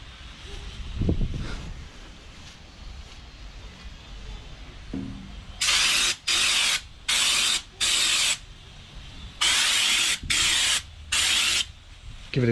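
Raptor liner coating sprayed onto a trailer in loud, hissing bursts, eight or so spaced a second apart and each about half a second long, with quieter background noise between passes.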